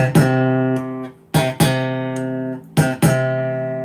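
Warwick Corvette Standard bass guitar on its split single-coil pickup, three plucked notes, each a sharp attack followed by a long sustaining decay, played alone and clear.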